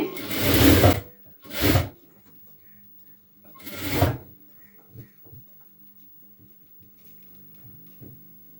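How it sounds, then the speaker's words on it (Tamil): Several short bursts of a sewing machine running as it stitches a blouse piece straight, each run about a second, separated by quiet pauses with soft handling clicks and faint background hum. "ஸோ இப்போ வந்து நான் அப்படியே ஸ்டிச் பண்ணி எடுத்துகிட்டு வந்துடலாம் ஸ்ட்ரைட்டாகவே."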